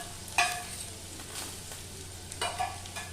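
Onions and green chillies fry quietly in a pan, with a soft continuous sizzle broken by a few brief scraping stirs and a steady low hum beneath.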